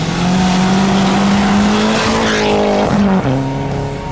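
An Audi S3 rally car races hard, its loud engine holding a steady high drone and then shifting pitch, with a brief dip near the end as it changes gear, close and continuous.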